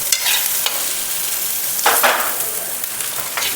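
Pav bhaji ingredients such as chillies and onions frying in a pan, with a steady sizzle and bursts of scraping and stirring, close up and alone.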